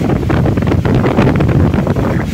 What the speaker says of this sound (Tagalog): Taas ng hangin oh.